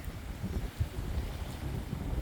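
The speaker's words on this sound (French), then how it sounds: "Oula, il y a du vent." Wind gusting over a sailboat heading toward Norway, a steady low roaring buffet with brief louder gusts, close to the microphone and with no voices.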